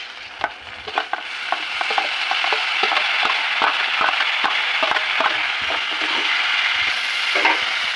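Tomatoes and onions frying in a pan, a loud, continuous close sizzle broken by frequent sharp clicks and scrapes of stirring throughout.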